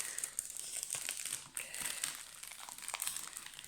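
Paper and plastic wrapping crinkle and crumple continuously as a tightly packed parcel is opened, close and steady with small tearing accents.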